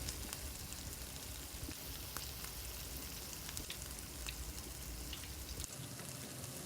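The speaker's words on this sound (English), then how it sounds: "that's the reason why you have to fry on medium heat" Homemade egg rolls deep-frying in oil on medium heat, a soft, even bubbling hiss with fine crackles, fairly quiet and steady, cutting out near the end.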